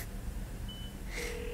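A phone being dialed to call someone's mother gives a couple of short electronic tones, faint and close, over a quiet room hum.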